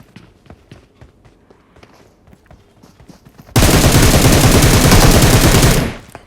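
Gunfire in the battle royale game PUBG: scattered distant shots and footstep-like taps, then a loud sustained burst of rapid automatic fire for over two seconds that cuts off abruptly.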